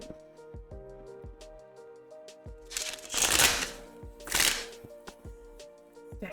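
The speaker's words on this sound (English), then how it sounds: "Deck is still really fucking hard to shuffle. Like, it does not want to bend." Shuffling a stiff deck of cards that resists bending: scattered clicks and taps build into two loud riffling bursts, close and dry, with no talking.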